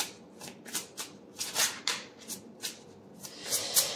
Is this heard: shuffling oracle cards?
yes